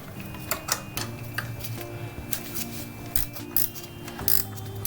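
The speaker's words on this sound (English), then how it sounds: "I'm going to use a 13mm ratcheting wrench" A 13mm ratcheting wrench working a bolt on a 1987 Corvette engine gives rapid, close mechanical clicks in short bursts with brief pauses between strokes.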